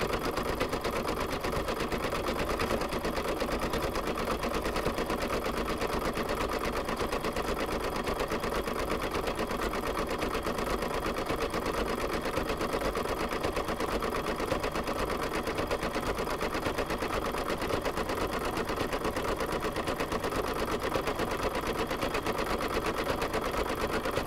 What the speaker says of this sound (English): now it's going to do a little decorative zigzag stitch around the coaster